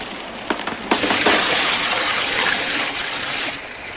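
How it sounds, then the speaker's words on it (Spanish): A bucket of water dumped onto a fire's flames, heard as a sudden loud rushing splash and hiss that holds steady for a few seconds before cutting off, preceded by a couple of small knocks. "Decididamente cogí un cubo de agua que vertí sobre las llamas."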